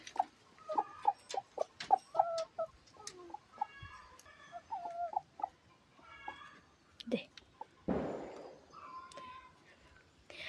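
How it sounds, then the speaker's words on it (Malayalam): Chickens cluck and squawk in short bursts close by, with a person talking over them; a louder flapping or rustling burst comes near the end. "ഇതാണ് നമ്മളെ കോഴി"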